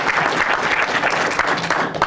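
Applause at a heritage preservation awards ceremony, honouring the preservation staff: steady dense clapping from a crowd, loud and continuous throughout, with no talk over it.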